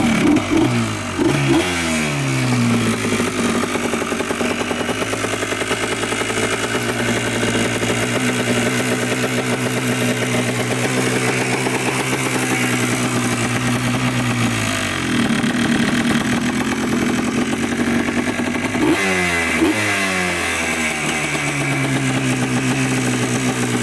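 The two-stroke engine of a Yamaha Blaster ATV kicks to life and runs loud and close, with repeated revs rising and falling over a rough, buzzy idle with no steady idle setting.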